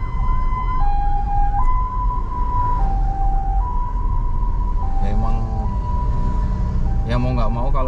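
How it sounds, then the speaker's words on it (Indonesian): A loud ambulance siren alternating between two pitches in a steady wail, close by, with a few brief chirping tones near the end. "Ada ambulan."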